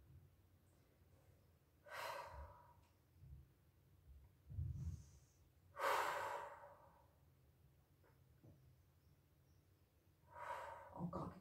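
Audible in-and-out breaths during a gentle Pilates stretch, a few soft exhalations with sighing, snort-like bursts spaced several seconds apart, close and fairly quiet, with no talking.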